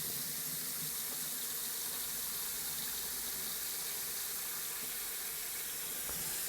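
Cold tap water runs steadily into a pot of poached sausages in a kitchen, a continuous hissing splash with a faint clink near the end.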